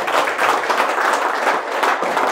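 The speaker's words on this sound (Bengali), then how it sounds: "স্যারদের জন্য একটা হাততালি দেবেন" An audience claps for teachers at a motivational talk, a dense, sustained round of applause from a crowd filling the room at steady loudness.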